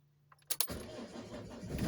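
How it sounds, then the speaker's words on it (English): A 2007 Trigano Tribute 650 camper van started from cold: a couple of sharp starter cranks, then the engine catches and settles into a steady, slightly building idle, close by with no talking. "See, it starts up fine, even though the engine's cold."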